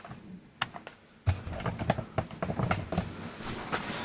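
Irregular clicking of keys being typed on a computer keyboard, close by, in uneven bursts with brief pauses.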